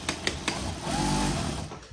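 A JUKI DLN-5410N-7 needle-feed industrial lockstitch sewing machine stitching: a few quick ticks, then a close, steady mechanical whir for about a second before it slows, with no talking.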